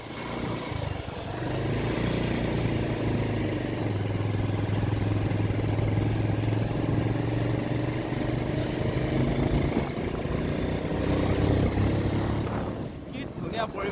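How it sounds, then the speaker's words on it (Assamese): A motorcycle ridden slowly along a road gives a continuous, close engine drone that holds steady for most of the ride, blended with rushing wind buffeting the microphone and easing slightly near the end. "মই গৈ আছোঁ লাহে লাহে, আৰু বাইক চলাই আছোঁ"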